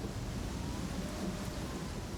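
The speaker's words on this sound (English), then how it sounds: "We're just, you know, walking through a thunderstorm." Thunderstorm in the Pathfinder Kingmaker video game, a dense, loud roar of heavy rain with a low thunder rumble, continuous and unbroken.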